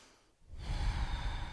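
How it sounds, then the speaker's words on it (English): A single slow breath drawn in through the nose during a ballroom dance breathing lesson, a soft airy rush that swells after a brief quiet gap and carries on steadily, close to the microphone. "Let's practice breathing in through our nose,"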